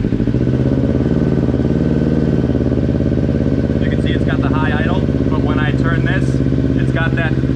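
A sportbike engine fires up and settles into a steady, loud idle close by, its low rumble running throughout while a person talks over it.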